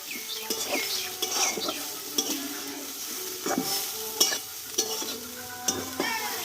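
Drumstick (sojne data) curry is stirred in a pan, with close, rhythmic scraping strokes over a soft background sizzle and no talking.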